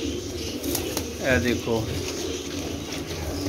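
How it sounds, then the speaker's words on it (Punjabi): Pet pigeons kept by a fancier near Daska give a couple of soft, throaty coos close by, under a voice talking, with faint wing rustles in the background. "ਇਹ ਕਬੂਤਰ ਦੇਖੋ ਮਾਸ਼ਾਅੱਲਾ"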